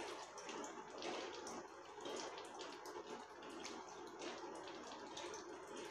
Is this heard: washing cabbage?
yes